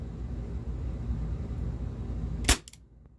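A Walther P38 4.5mm CO2 air pistol fires one sharp, loud crack near the end, after a low steady hum of background noise. The shot ends abruptly into near silence.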